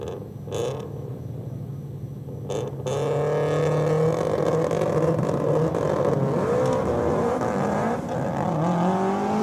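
Hyundai and Subaru WRX cars drag racing at Sydney Dragway, with loud engine roar building and rising in pitch as they launch and accelerate down the strip, sustained and close with no talk.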